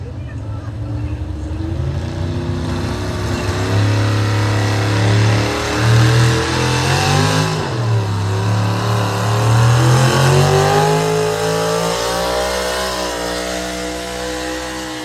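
At a tractor-pulling event, an aluminum-head 6,000-pound Super Stock pulling truck engine roars loud and close, its revs swelling and dipping over fifteen seconds, with a voice partly blended into the din.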